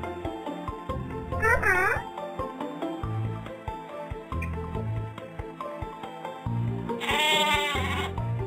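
Sheep bleats in a baby animal-learning video game ring out twice, a short one early and a longer wavering one near the end, over loud, continuous backing music.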